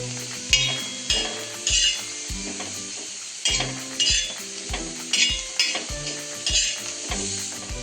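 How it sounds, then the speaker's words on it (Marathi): Spice masala dry-roasts on an iron griddle for Maharashtrian mutton, with a spatula scraping and clinking in a steady rhythm about once a second over a continuous sizzle and background music. "असं लोखंडी तवा घेतलाय, तर सगळं मी मसाला छान आता भाजून घेते"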